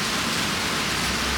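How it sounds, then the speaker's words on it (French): Steady rain falls again at night, a dense, even hiss of drops with no break or change and no voices. "Et il repleut."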